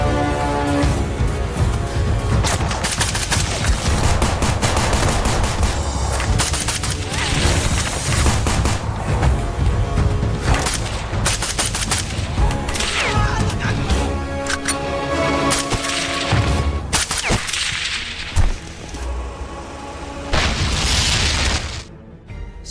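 Shootout gunfire from the war film Sniper, dense volleys of shots and booming blasts packed almost continuously over a loud mixed soundtrack, ending in a brief drop-off.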